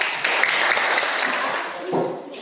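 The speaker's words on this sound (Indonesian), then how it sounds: "Tepuk tangan buat kelompok 2." A classroom of Indonesian eighth-grade students claps for group 2, giving a short, dense burst of applause that swells near the end and then fades.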